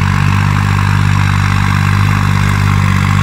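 A modified Swaraj 5620 tractor engine runs steadily at idle, a loud, even low-pitched throb with a constant mechanical hum and no break throughout.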